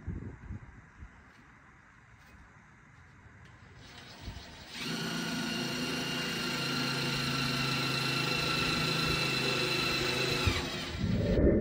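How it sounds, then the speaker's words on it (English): After a few quiet seconds of faint shuffling, a power drill whirs loudly and continuously for several seconds, then stops abruptly. "We'll go ahead and get some nuts and bolts and drill some holes."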